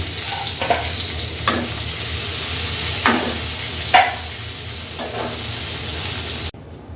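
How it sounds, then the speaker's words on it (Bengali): Fish frying in oil in a kadai with a continuous close sizzle, broken by a handful of stirring scrapes, then cutting off abruptly near the end. "মাছটা ভেজে নিই"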